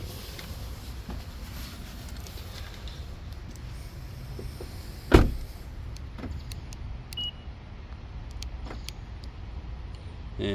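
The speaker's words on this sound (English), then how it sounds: "And it says if you hold this button, it should open the door." A 2018 Honda Odyssey van's power sliding door runs after a button press at a car dealership, a steady low motor hum with a sharp clunk midway, then softer latch clicks, no talking.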